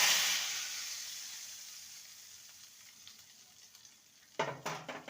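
Oil sizzles and slowly fades while a tempering of bay leaf and asafoetida finishes frying. Near the end, loud bursts of crackling spit up as the tempering is poured into the potato curry.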